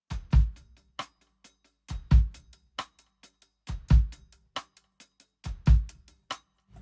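A drum kit pattern pairing two quick bass drum 16th-note hits with steady hi-hat strokes, the low double thumps repeating four times in an even loop, close and without talking.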